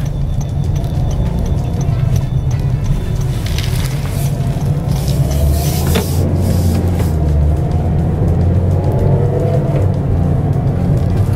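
A 2026 Toyota Vios hybrid with a CVT drives along in sequential shift mode, giving a steady low engine and road drone from inside the cabin with a few subtle shifts in pitch and faint rattles.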